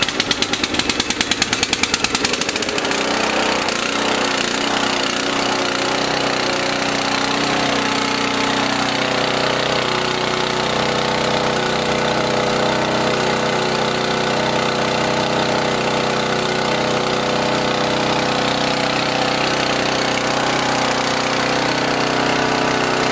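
A small engine running on VP race fuel catches after a few sputtering pulls and then settles into a loud, steady run with a rough, buzzing drone that holds close and constant throughout.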